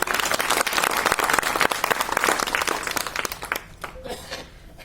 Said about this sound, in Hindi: आप एक बार जोरदार तालियां बजाएं रामेश्वर लाल जी